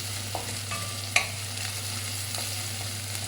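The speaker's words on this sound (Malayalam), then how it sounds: "ഉള്ളി നല്ല പോലെ മൂക്കണം ബ്രൗൺ കളറാണ് കേട്ടോ" Onions fry in a pan for a paneer masala, a steady sizzle with a few stirring scrapes and one sharp clink of the utensil against the pan, alone without talk.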